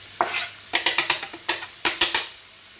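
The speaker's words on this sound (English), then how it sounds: "give this a quick stir" A spoon stirs sun-dried tomatoes into pasta primavera in a pan, giving about ten short, close scraping knocks and clinks in an irregular rhythm with no talking.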